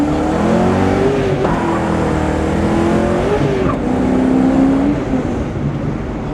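A 1970 AMC AMX race car engine revs up and climbs in pitch at about two-thirds throttle, loud and close, with a tire squeal mixed in.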